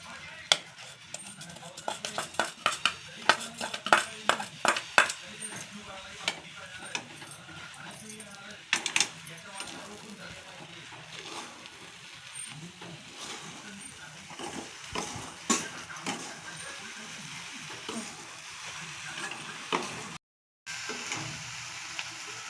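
A rava and coconut modak mixture with milk is stirred and mixed in a pan, with scraping and clinking of the spoon against the vessel in irregular bursts, under intermittent talk.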